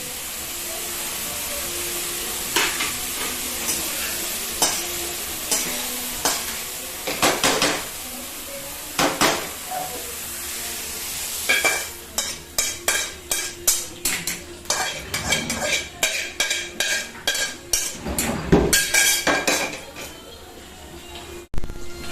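Spring onions stir-fried for vegetable fried rice, a steady sizzle under repeated scraping and clanking of a utensil against the pan that grows quicker and denser toward the end, with no talk.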